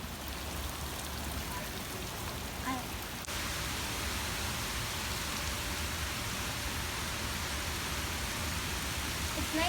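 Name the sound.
rain falling, including on water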